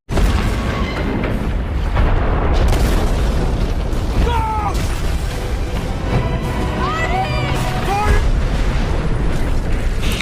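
A bomb blast brings down a building in an action film, a loud, sustained roaring explosion with deep rumble and debris crashing that fills the whole stretch, with brief vocal sounds rising over the din.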